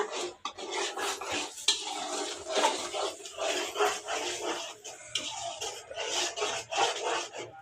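Curry ingredients for paneer curry are mixed in a pan, giving close, rhythmic scraping and rubbing strokes of a spoon against metal that repeat steadily throughout.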